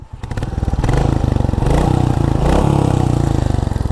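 A Royal Enfield motorcycle engine runs loud and close for several seconds, a steady deep thumping beat that swells briefly as it revs, with no talking over it.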